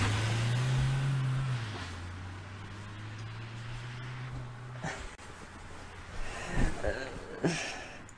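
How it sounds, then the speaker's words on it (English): In the tank-building game Sprocket, a truck approaches with a steady low engine drone whose pitch drops slightly, followed by a few louder mechanical thumps and rattles as it draws near. "I think I hear a truck coming now."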